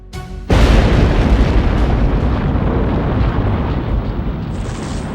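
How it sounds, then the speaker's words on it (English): A massive blast from four tons of gunpowder detonated in a tunnel under Confederate lines erupts suddenly, then a long, thunderous roar and rumble rolls on and slowly fades. "They would set off a huge explosion"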